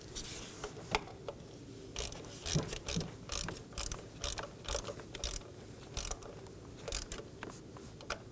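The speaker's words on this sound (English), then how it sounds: "We're going to hand thread on our bolt. And snug it down using your 8mm." A ratchet with an 8mm socket snugs down a valve cover bolt on a 2014-2023 Ford Transit Connect 2.5L four-cylinder, rapid clicking bursts repeating in uneven runs, close and fairly loud, with no talking.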